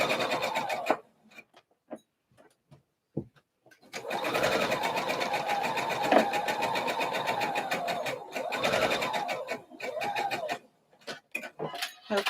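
A sewing machine stitches down a slip dress toward the hem in a lengthened stitch, a close, rapid mechanical whirring in two sustained runs, broken by short stops and scattered clicks.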